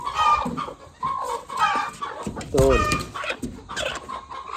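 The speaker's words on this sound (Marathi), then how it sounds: "ह्या एकाच जगामध्ये ह्या दोन कोंबड्या तीन कोंबड्या आहेत बघा" Three chickens in a single enclosure on a farm cluck repeatedly, close and fairly loud, mixed with a person talking over them.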